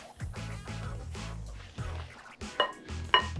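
Spoon stirring banana bread batter of coconut oil and sugar in a bowl, soft scraping strokes with a few sharper clinks against the bowl toward the end.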